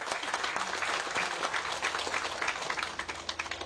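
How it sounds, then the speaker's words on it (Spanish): An audience applauds at a road inauguration ceremony in Ecuador, a fairly quiet, distant-sounding patter of many hands clapping that flutters unevenly toward the end, with no speech over it. "Fuerte los aplausos."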